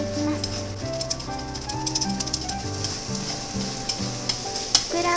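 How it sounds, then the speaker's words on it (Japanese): Beaten eggs sizzle and crackle as they are poured into hot salad oil and lightly scrambled for an egg and green pepper stir-fry with salted kombu, a steady frying hiss running under background music. "油が温まったら卵液を流し込んで軽くスクランブル状にしていきます。"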